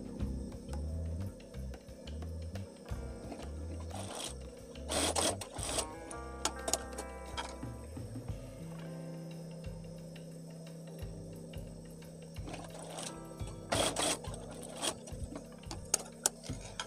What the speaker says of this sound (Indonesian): Setelah jahit bagian pundak, kita jahit juga bagian sampingnya.